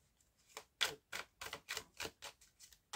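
A tarot deck is shuffled in quick, soft riffling strokes, a steady run of about a dozen brisk card flutters. The sound is faint and close, with no voices.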